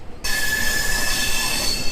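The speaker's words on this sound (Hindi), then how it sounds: "ये हावड़ा अहमदाबाद एक्सप्रेस को हम लोग ओवरटेक मार रहे हैं।" Express trains run side by side near Howrah, a sudden loud rush of wheels and carriages starting abruptly and holding steady with a sustained high metallic squeal, close and continuous.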